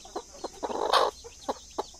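A brooding native country hen sitting on eggs clucks softly in a few short, spaced calls with one longer, louder squawk in the middle, close by.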